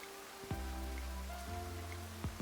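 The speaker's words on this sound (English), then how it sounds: "Mixed with the sound of the rain, the game's sound rang softly." Rain falls steadily in a visual novel game scene, a soft continuous hiss beneath low sustained game music tones, with no voices.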